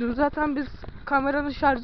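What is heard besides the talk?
No everyday noises stand out.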